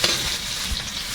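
Dried red chilli and onion fry in hot oil with a loud, steady sizzle up close, and a soft stirring thump partway through the short burst.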